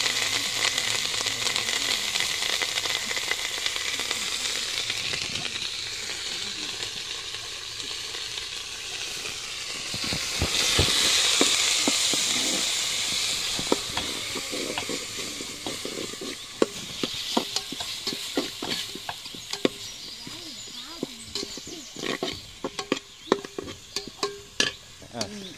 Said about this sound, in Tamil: அரைச்சு வச்ச விழுது எல்லாம் போட்டு எண்ணெயிலே வதக்க வேண்டும்.